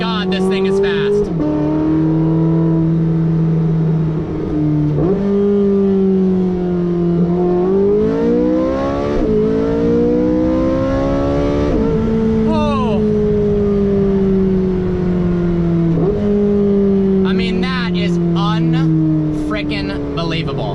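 A Porsche 918 Spyder's roaring V8 engine accelerates hard through repeated gear changes, its pitch climbing and dropping with each shift, loud and close, with a voice exclaiming over it.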